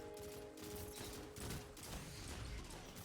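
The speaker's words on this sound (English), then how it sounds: "Put a few shots into that guy." Pulse rifle fire in a first-person shooter, with Warlock abilities in play: rapid repeated shots in a dense, sustained burst over game ambience, quiet overall and without a break.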